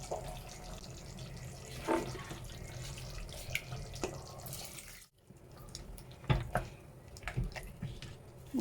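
A thin stream of water mixed in a bowl is poured into a pan of red chicken kurma. The trickle and splash are continuous and close for several seconds, with a few small clinks, and no talk.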